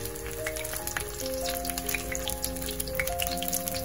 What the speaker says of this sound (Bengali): আর চুলার আঁচ মিডিয়ামে রেখে বেগুনগুলোকে ভাজতে হবে।